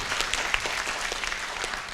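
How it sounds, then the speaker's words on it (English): A seminar audience breaks into applause, dense continuous clapping at steady volume with no talk, filling a room. "So can you give them a round of applause?"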